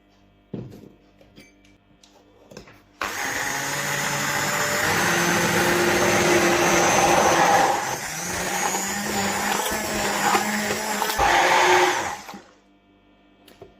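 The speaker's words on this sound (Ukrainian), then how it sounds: "і все подрібнюємо блендером" A blender crushing frozen raspberries and sugar whirs loudly for several seconds, dips briefly, then surges again before cutting off, with no voices.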